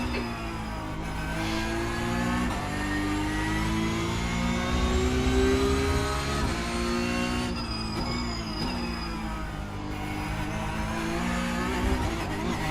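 A racing car in a sim racing game launches and accelerates hard, its engine note climbing steadily through the gears with brief dips at each shift, continuous and fairly close, with no talk.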